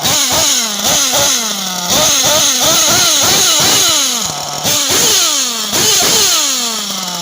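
A Serpent SRX8 Evo nitro RC car engine buzzes loudly and continuously, its pitch surging up and down in quick repeated blips of throttle.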